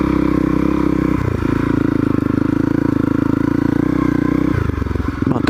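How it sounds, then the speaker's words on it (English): A Honda CRF 250L motorcycle engine idles and revs steadily up close while the bike is turned around in mud and grass, loud and continuous with a rough throbbing tone and a brief rise in revs near the end. "See if I can get the bike turned around in this slightly more grippy looking"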